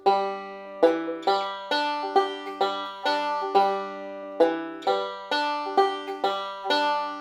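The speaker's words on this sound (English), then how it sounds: "Now we're just sliding into it to make it sound like a banjo." Banjo notes played one after another in a steady bluegrass bass walk in G, sliding into notes, bright and twangy with quick decays, close up and alone.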